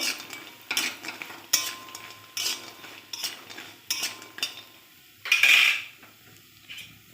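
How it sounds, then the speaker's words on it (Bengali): Lentil dumplings (bori) frying in mustard oil in a wok are stirred with a metal utensil, making repeated close scrapes and clinks against the pan over a faint sizzle, with one louder burst of frying near the end. "বড়িটা ভেজে নেব"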